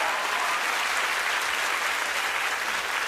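A concert audience applauds a live performance of a ballad, a dense, sustained wash of clapping from a large crowd, loud and steady throughout with no voices rising above it.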